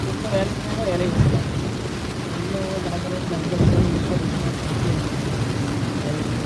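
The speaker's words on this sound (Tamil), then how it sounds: "இங்கே நல்லா மழை நல்லா ஏகப்பட்ட மழை பெஞ்சிட்ருக்கு" Heavy rain pours steadily with low rumbles of thunder swelling around the one- and four-second marks, a dense, loud wash heard from inside a car with faint voices underneath.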